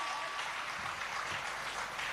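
Faint, steady clapping from an audience at a Jain religious stage event honoring Lord Mahavir, a continuous soft patter heard from some distance.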